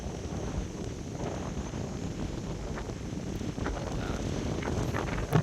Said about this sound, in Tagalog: napakalakas po talaga ng ng alon tsaka hangin